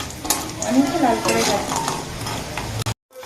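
Bori lentil dumplings fry in oil in a pan while a utensil stirs and scrapes them, with close sizzling and metallic clinks before the sound cuts off abruptly.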